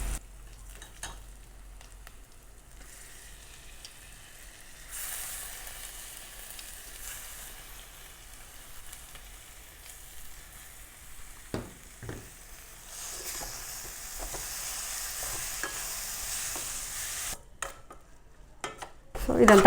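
Chopped fenugreek leaves fry in a pan with ginger paste under a soft, low sizzle, broken by occasional scrapes and clinks of a utensil as they are stirred, growing busier toward the end.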